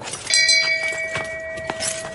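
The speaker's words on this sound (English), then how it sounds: "And if that's you, you get the shame bell." A small mock 'shame bell' rings once with a bright ding whose tone hangs on and fades slowly. No voices are heard over it.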